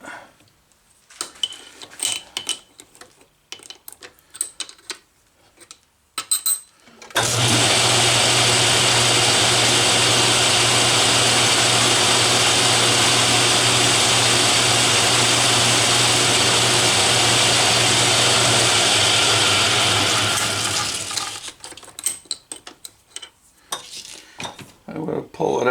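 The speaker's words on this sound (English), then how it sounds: "I'm going to center drill it." Quiet clinks and shop clatter give way to a loud, steady Atlas lathe hum while center drilling metal, running about fourteen seconds, then stops and the light clatter returns.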